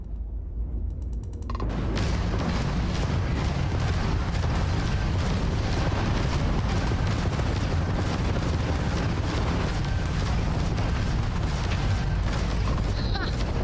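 Spaceship weapons and explosions rumble from a battle in the video game Starfield, a dense, continuous roar of booming blasts and mechanical fire that swells after a short opening and stays loud to the end.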